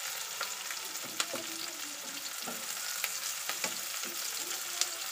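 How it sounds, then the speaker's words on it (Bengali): Chopped onions with garlic, cinnamon and cardamom fry in hot oil, a steady close sizzle with occasional stirring clicks and scrapes, no talking. "পেঁয়াজ কিছুক্ষণ তেলের মধ্যে ভেজে নিয়ে"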